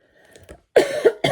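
A person coughs in two short harsh bursts after a faint throat sound, close and clear with no talk.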